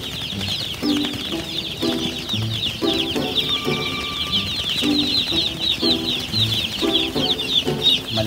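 Freshly hatched chicks from a hatchery being set into a brooder give a dense, continuous chorus of high peeping, while lower repeated clucking calls pulse through at a steady rhythm nearby.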